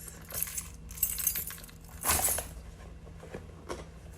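Keys jangling from a Telfar shopper bag, a few light metallic clinks and rattles close by, with a brighter burst in the middle, and no one talking.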